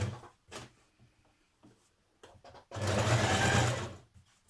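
A sewing machine understitches the facing of a New Look 6871 blouse a couple of millimetres from the edge, with a few short taps and clicks before one sustained close run of stitching lasting under two seconds.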